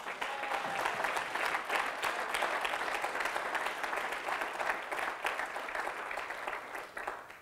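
A church congregation applauds steadily throughout, a dense, sustained wash of clapping from many hands with no break.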